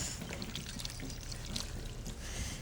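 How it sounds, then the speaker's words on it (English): Crushed tomatoes in puree pour from a 28-ounce can into a cooking pot, a soft, steady, thick wet glug that runs continuously for a few seconds at low volume. "Then I'm gonna add tomatoes, a 28-ounce can of crushed tomatoes in puree."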